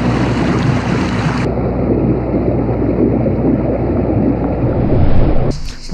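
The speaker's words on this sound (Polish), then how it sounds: "No jesteśmy już na tej łódce, na tym stateczku i czekamy na resztę podróżujących z nami turystów." An old tour boat on the lake at Matka Canyon rumbles along with a steady engine drone and wind noise buffeting the microphone, loud and continuous before easing off.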